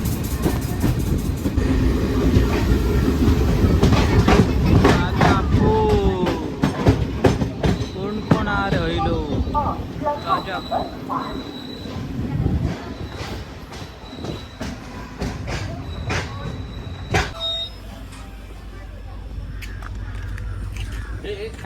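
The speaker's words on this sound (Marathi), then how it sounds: "राजापुरात थांबलेली आहे तिरुअनंतपुरम एक्सप्रेस क्रॉसिंगला" Thiruvananthapuram Express at Rajapur station on a crossing halt, with rolling train rumble, wheel clatter and brake squeals throughout, a few bright squeal tones near the end, and voices talking over the rail noise.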